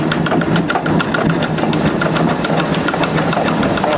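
Historic flour mill machinery running as a millstone grinds flour in a cellar: a steady mechanical drone with a fast, regular clattering rhythm, close and fairly loud throughout with no talk.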